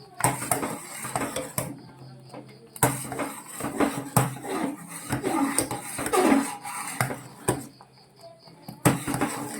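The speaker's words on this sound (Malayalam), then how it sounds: "കസ്റ്റാർഡ് ഒഴിച്ചു കഴിഞ്ഞാൽ പിന്നെ നമ്മൾ അടുക്കി പിടിക്കാതെ ഇളക്കിക്കൊണ്ടിരിക്കണം" Spoon scraping and clinking against a pan while custard is stirred into milk, a steady close rhythm of metallic scrapes and knocks with brief pauses.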